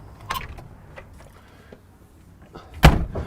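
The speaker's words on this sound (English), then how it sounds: "And then I'm gonna go ahead and close the door." The door of a 2022 Newmar Supreme Aire 4590 Super C motorhome closing, a few light rattles and mechanism clicks followed by one loud, close thud near the end.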